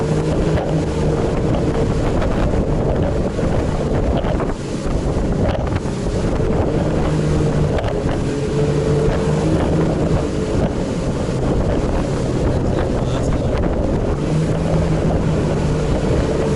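A motorboat droning steadily while wind roars across the microphone and the hull thumps over waves, loud and continuous throughout.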